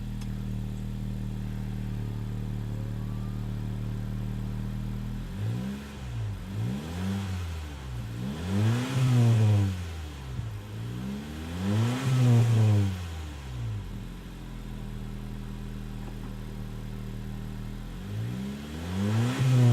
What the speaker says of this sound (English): turn the car on, give you guys a few revs, and let you guys listen to what this thing sounds like